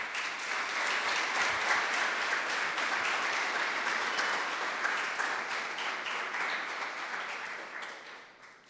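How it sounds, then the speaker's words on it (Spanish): Audience applause at a school event in Argentina, a broad wash of many hands clapping at moderate level that swells early, holds, and fades away near the end. "que reciban estos aplausos acá para el cielo"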